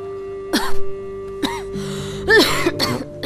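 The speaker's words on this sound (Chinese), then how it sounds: "你看，又咳嗽了" A person coughs in several separate bursts, some harsh and throaty, spread across a quiet room with a faint steady hum behind.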